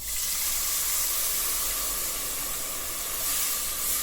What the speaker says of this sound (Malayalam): ഇനി ഞാനിതിലേക്ക് പുളിവെള്ളം ചേർത്ത് കൊടുക്കുകയാണ്.